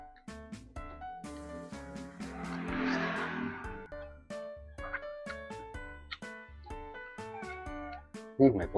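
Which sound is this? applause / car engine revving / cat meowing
cat meowing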